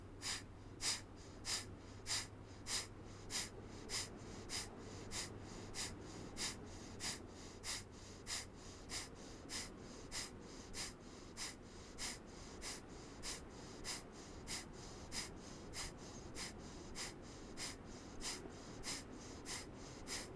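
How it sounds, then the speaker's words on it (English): Rapid, rhythmic breath-of-fire yoga breathing: about thirty sharp, evenly spaced nasal exhales pulsing steadily at close range with no talk. "Now either take deep breaths or come with me into breath of fire."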